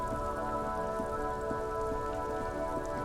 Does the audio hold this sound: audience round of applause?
no